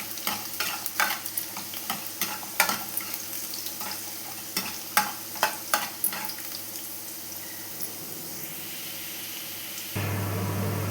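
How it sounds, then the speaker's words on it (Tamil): Garlic fries in hot oil for a masala kulambu while a spoon stirs it, giving a steady close sizzle broken by repeated scraping strokes, then a louder, fuller hiss near the end. No one speaks. "பூண்டு சேர்த்து நல்லா வதக்கி விட்டுக்கலாம்."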